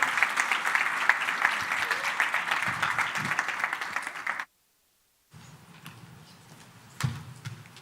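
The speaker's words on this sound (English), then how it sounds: "Let's give Dr. Terence a big round of applause." An audience at a business empowerment conference claps for about four seconds, a loud, even patter of many hands that stops abruptly, followed by quieter room noise and a few stray thumps.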